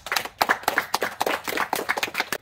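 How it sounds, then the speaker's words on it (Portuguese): A small group claps at a family birthday surprise, close and fairly sparse with distinct individual hand claps in an uneven rhythm. "Receba as nossas palmas também."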